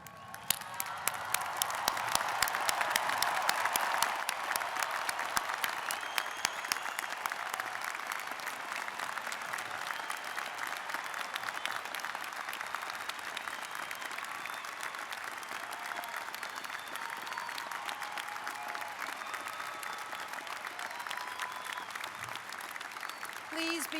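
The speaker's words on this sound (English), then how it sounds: "we all stand up, everyone, including the graduates, and applaud the class of" A large commencement audience at the University of Washington stands and applauds the graduating class of 2011, sustained dense clapping that swells early and holds steady for the full stretch, with faint background voices.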